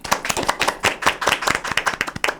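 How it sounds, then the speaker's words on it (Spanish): Rhythmic hand claps from a small studio audience at the start of a Dominican talk show, sharp, close and fairly loud, running continuously for a couple of seconds with no voices over them. "Un aplauso."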